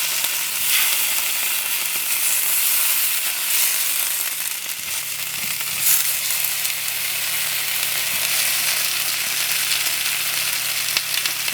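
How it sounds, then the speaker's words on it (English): Oxtails searing in a hot pan give a steady, loud sizzle and crackle that runs without a break, with a few brief spits and pops and no talk. "And finish searing these"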